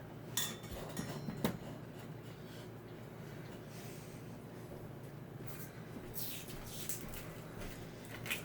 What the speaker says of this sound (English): I said I was going to quarter this onion. I'm just going to half it.